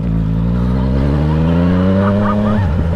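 A motorcycle pulls away with its engine note climbing steadily in pitch as it accelerates, loud and close, before the tone drops off near the end.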